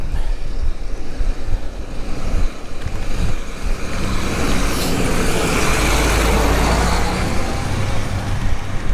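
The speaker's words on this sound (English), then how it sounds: "Oh, tractor coming." A tractor engine rumbles steadily nearby on a country road, its low drone swelling and easing as it passes amid constant road noise.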